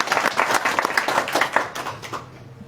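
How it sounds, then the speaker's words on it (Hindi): Loud applause at a BJP party meeting in a district office: a burst of many hands clapping together, steady and close, fading out toward the end without speech. "जोरदार तालियों के बीच"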